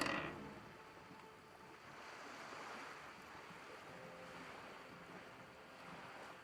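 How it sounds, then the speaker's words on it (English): Gusting wind ambience from the video game Disco Elysium, a steady, moderately loud airy rush that swells slightly and holds for several seconds with no voices over it. "The wind flaps."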